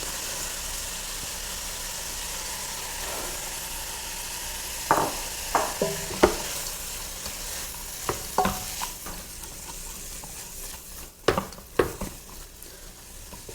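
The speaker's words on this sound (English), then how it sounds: "I'm going to fry the grated pumpkins." Grated pumpkin frying in ghee in a pan, a steady close sizzle throughout, broken by several sharp clinks and scrapes of a spoon stirring against the pan, with no talking.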